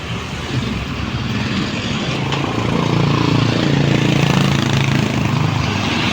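Heavy traffic flows past a street crossing near the old stone arch landmark in Pagsanjan, Laguna, making a steady, loud, close roar of many engines with no break.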